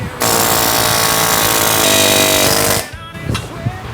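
Loud, steady rattling hammering on an aluminum steering knuckle of a Nissan 370Z during tie rod work runs for nearly three seconds, then cuts off into a few scattered clanks and softer knocks.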